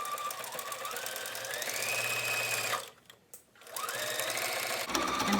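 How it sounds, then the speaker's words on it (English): A sewing machine stitching a fabric face mask, a steady close whirring run that stops briefly, then resumes at a slower and then quicker pace. "I'm going to have my needle over far left so that I can stitch as close to this edge as"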